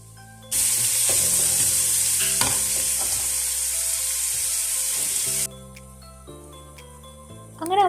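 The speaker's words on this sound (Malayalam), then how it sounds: "പിന്നെ നീളത്തിയായിട്ട് നമ്മൾ സവാളയും കൂടി ചേർത്ത് നല്ലപോലെ ഒന്ന് വഴറ്റി കൊടുക്കുന്നുണ്ട്." Onions with ginger and garlic sauté in a pan, a loud sizzle that bursts in suddenly, carries stirring clinks for about five seconds, then stops abruptly into quiet kitchen clatter.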